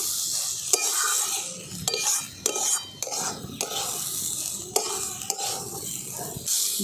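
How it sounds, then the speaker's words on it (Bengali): Rice being stirred with spices in a metal pan, a gentle sizzle with a spoon scraping and knocking against the pan in irregular strokes, close and fairly quiet. "মশলার সঙ্গে খুব ভালো করে মিশিয়ে নিচ্ছি চালটা"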